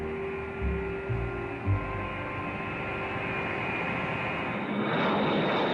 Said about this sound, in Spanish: Un gran número de aviones B-52 cargados con bombas de hidrógeno estaban listos para una guerra.